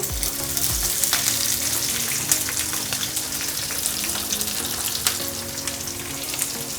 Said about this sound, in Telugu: ఇప్పుడు ఈ ఉల్లిపాయలు బాగా దోరగా ఫ్రై అవ్వాలి